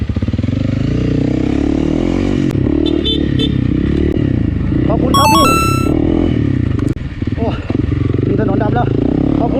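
An enduro motorcycle labours through a race course, its engine droning steadily close by with revving swells, clattering and scraping, while someone talks over it throughout.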